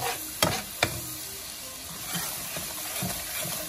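Lobster stir-frying in a pan with butter and garlic, a steady close sizzle with a couple of sharp clanks of utensil on pan near the start, then softer stirring scrapes and bumps.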